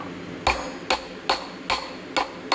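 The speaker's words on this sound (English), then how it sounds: "I happen to have this 2-inch socket. I think this is going to work better. We'll just tap it in this way." A part on a Case 207D engine block being tapped into place with a 2-inch socket, six evenly spaced sharp metallic knocks, each with a brief ringing tail, close and alone.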